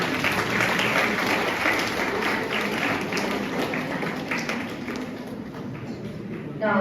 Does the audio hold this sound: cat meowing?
no